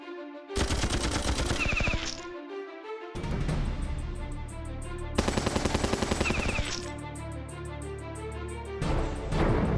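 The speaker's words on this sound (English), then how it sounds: "we'll just have to finish it off with machine guns" Rapid machine gun fire from the video game Battle Nations during a naval battle against jet skis, in several sustained loud bursts with short pauses between them.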